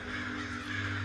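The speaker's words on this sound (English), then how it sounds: "A screeching cloud of tattered ink-black wings burst from what had been its body" Crows cawing harshly together in a dense, continuous screech, loud and close, like a flock bursting into flight.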